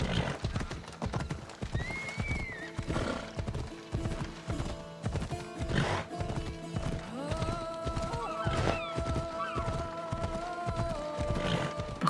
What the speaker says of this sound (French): j'ai retrouvé mon cheval de Assassin's Creed Origins